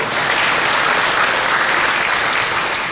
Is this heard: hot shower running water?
no